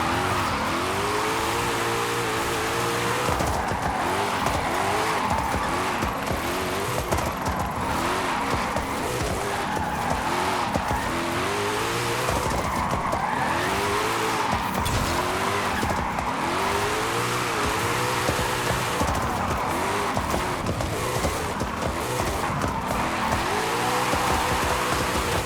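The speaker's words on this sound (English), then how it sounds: "I'll kind of use my e-brake and clutch to extend that slide a little bit." Rear-wheel-drive custom drift car in Forza Horizon 5 sliding with e-brake and clutch, a constant loud engine roar with rising and falling revs and continuous tire squeal throughout the long drift.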